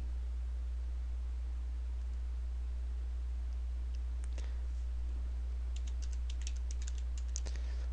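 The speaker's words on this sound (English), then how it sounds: "So now I just click next and type in my password." Fingers type a password on a computer keyboard, a run of soft, scattered clicks that grows busier toward the end, over a steady low electrical hum with no talking.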